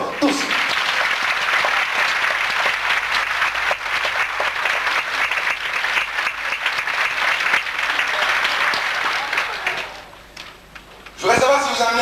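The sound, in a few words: audience applauding performers on stage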